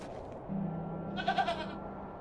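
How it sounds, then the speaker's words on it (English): A single goat bleats once in the video game The Excavation of Hob's Barrow, a short wavering cry rising over a low steady hum, fairly close and moderately loud. "I'm not fond of goats at the best of times,"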